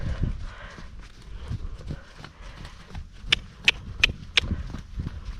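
A ridden horse clip-clops over a course of jumps. The soft, irregular hoofbeats grow into four sharp, evenly spaced thuds near the end, heard at a moderate distance in an outdoor arena.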